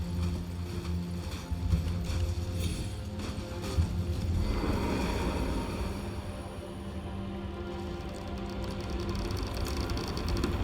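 Rhythmic hoofbeats pound steadily at a quick pace, a horse galloping in Elden Ring over a continuous low background rumble, with no talking.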